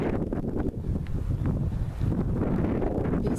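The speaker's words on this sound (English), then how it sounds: "the wind in these trees is absolutely amazing. It sounds almost scary." Strong wind gusts through trees in a nature reserve, a loud, steady broadband roar with swelling and easing surges, close and continuous with no talk.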